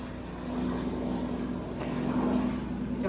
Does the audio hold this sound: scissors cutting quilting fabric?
no